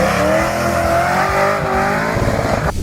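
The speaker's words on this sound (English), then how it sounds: "Pontiac GTO Judge, the OG muscle car" Pontiac GTO Judge muscle car engine roaring loud and close, a steady dense rumble with rising revs held for nearly three seconds before cutting off abruptly near the end.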